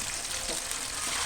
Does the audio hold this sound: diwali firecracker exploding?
no